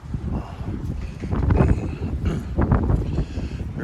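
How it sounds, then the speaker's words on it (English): Gusty wind buffets the microphone at a Friesian horse farm, a steady low roar that swells and eases in waves over several seconds with no other clear sounds. "It is windy"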